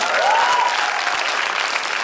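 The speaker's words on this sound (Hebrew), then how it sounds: "מחיאות כפיים." Applause from the crowd at a stand-up comedy set at a vegan congress fills the room in a steady, even wash throughout, with a faint whistle near the start.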